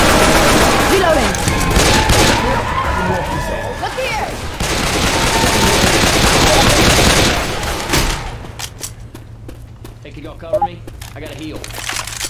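Heavy gunfire from Left 4 Dead 2 rattles in dense, overlapping bursts with a boom, while players shout over it; the shooting drops away near the end, leaving quieter scattered sounds.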